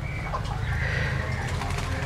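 A pet zebra dove (perkutut) coos steadily amid a dense, constant bed of low rumble and background bird noise. The cooing sounds fairly close, and it is partly masked by that noise.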